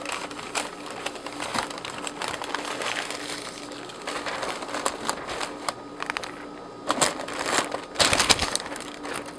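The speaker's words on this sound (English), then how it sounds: "if you're using a breather bag, it's best to wrap it in a piece of newspaper" Newspaper crinkled and folded around a plastic fish breather bag while boxing fish for shipping: steady close paper rustling and crumpling with sharper crackles near the end, no talk.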